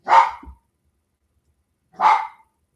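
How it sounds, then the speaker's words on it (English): A dog barks twice, close and loud, with a pause of about two seconds between the barks and silence around them. "he's barking at something, all riled up this morning"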